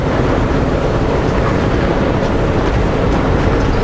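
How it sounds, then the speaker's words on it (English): A train rolls past along the Fraser River in a loud, continuous rumble with faint rhythmic clatter throughout, close and steady with no voices. "Watch the trains go by."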